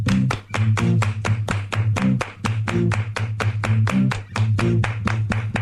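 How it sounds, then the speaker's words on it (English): Hand claps strike in a steady, rhythmic pattern over a deep thumping bass beat, sharp and close, like clapping built into a music breakdown on a morning radio show. "Everybody clap your hands."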